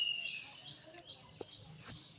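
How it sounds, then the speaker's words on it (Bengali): Faint bird chirps and calls scattered through quiet outdoor air, a few brief tweets rising over a soft background. "এই পাখিগুলো এমন করে ডাকে"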